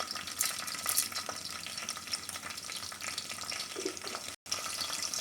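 A mix of tempering seeds dropped into hot oil for a gongura meal maker curry, sizzling and crackling steadily and close, with fine spattering pops throughout and a brief gap near the end.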